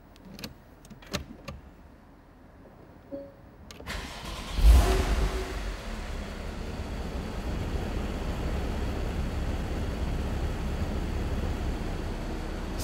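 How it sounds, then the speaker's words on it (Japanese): A 2015 Porsche 911 Type 991 Targa 4 with PDK cranks with a few clicks and starts with a sharp rev, then settles into a steady, close idle rumble. "ではエンジンを始動します。"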